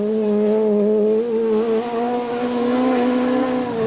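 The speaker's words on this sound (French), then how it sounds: "José Pedro Fontes nous a emmenés à bord de sa Fiat Punto Kit-Car" Fiat Punto Kit-Car rally car engine heard onboard during the 2002 Rallye F.C. Porto: a loud, steady, close drone that climbs gently in pitch under load, with no talk.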